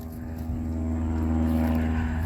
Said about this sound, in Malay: Ada pesawat ringan terbang, mungkin boleh dengar bunyi enjin dia lah.